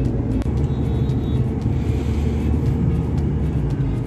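Dense Delhi road traffic produces a steady, loud low rumble of engines and tires that continues without a break and with no talk.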